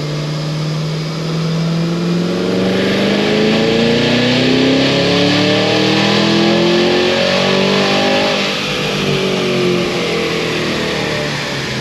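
An 800 hp Cadillac Escalade V engine revs hard on a dyno in all-wheel-drive form, a loud sustained roar climbing steadily in pitch over about ten seconds before easing off, alone with no talking.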